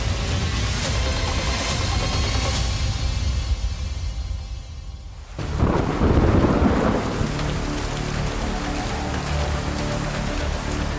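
Steady heavy rain pours down in the Bijapur forest of Chhattisgarh, then a loud crack and rumble of thunder breaks in midway before the downpour continues.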